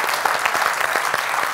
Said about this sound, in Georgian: აპლოდისმენტებს იმსახურებთ